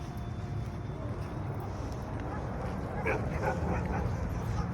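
A dog barks a few times in quick succession partway through, over a steady outdoor background rumble, at Düzler beach in Erdek, Balıkesir.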